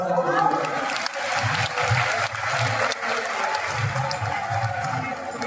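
A large crowd applauding at a Ram Katha religious gathering at a Navgrah temple in Dabra, Gwalior, with continuous dense clapping, loud and steady throughout.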